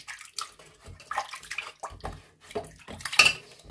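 Sweet potatoes being washed in water, with uneven splashes, sloshing and light clinks of a vessel in a quick irregular rhythm, close and fairly soft.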